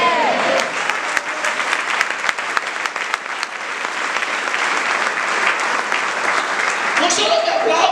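Church audience applauding during a sermon, a loud, steady roar of many hands clapping continuously from start to finish, with a faint voice surfacing briefly near the beginning and end.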